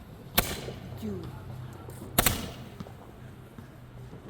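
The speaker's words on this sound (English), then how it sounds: "Those are supposed to be fireworks." Two sharp firework bangs during a 4th of July game session, one early and one near the middle, each a brief broadband crack with a short tail, under low background noise and some quiet voices.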